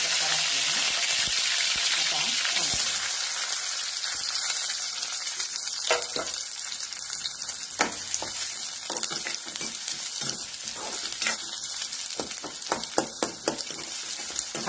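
Chopped onion fries in hot oil with curry leaves for a Maharashtrian chavali usal, giving a steady close sizzle with irregular clicks and scrapes from stirring.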